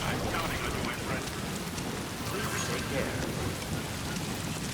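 Steady rain falls in the video game Death Stranding 2, a dense, even hiss of downpour with a low rumble beneath, moderately quiet and unbroken by talk.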